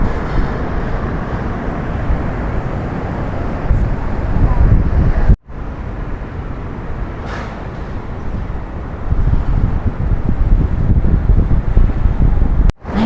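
Strong wind at a beach in Da Nang roars and buffets the microphone in a continuous low rumble, with brief dropouts and no talking.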